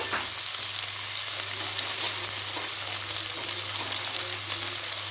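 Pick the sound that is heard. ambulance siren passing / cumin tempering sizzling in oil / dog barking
cumin tempering sizzling in oil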